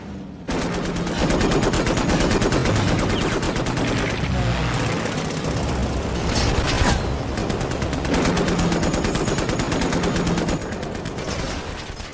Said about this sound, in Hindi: कम बोलो और गोलियां चलाओ स्टीव।